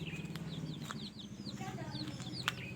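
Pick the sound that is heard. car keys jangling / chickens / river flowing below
chickens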